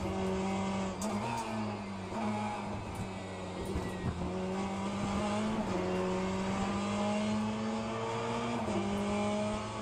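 Le Mans Ultimate race car in-game audio, a steady loud engine drone with shifting harmonics plus rattly chassis bouncing and stone-like knocks against the underbody and some tire noise, continuous with no talk.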